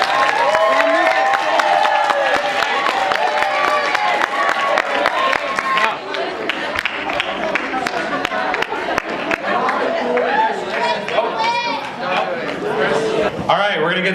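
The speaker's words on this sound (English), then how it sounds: "Go ahead and give them a round of applause." An audience claps and cheers for the candidates at a 2013 presidential debate, a steady broadband roar lasting throughout with voices chattering over it.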